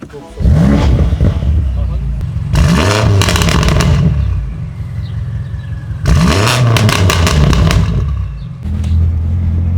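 A tuned BMW M5 F90 sedan with a modified engine revs hard while driving, several loud surging bursts of acceleration rising and falling over a steady engine drone, with voices talking in the cabin between them.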